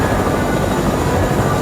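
A helicopter in the Fortnite video game gives a steady, loud, whirring drone that holds evenly through the short moment, with no talk over it.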